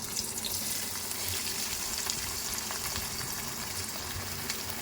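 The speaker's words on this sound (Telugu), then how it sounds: "ఆయిల్ వేడయ్యాక ఇప్పుడు మనం ఆనియన్ వేసేసుకుందాం" Onions frying in hot oil in a pot while cooking a mutton gravy curry, giving a steady, even sizzle and hiss throughout, close and continuous with no talking.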